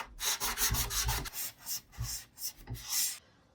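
A wooden dresser is hand-sanded with coarse 60 grit sandpaper in quick rhythmic back-and-forth rasping strokes, close and clear, with a few brief pauses and no talking.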